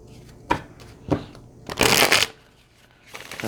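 An oracle card deck is shuffled nearby in several bursts: short riffles, then a longer, louder flurry of card noise, with no voices.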